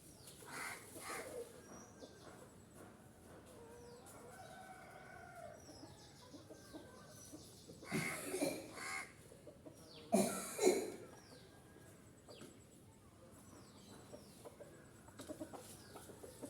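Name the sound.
chickens clucking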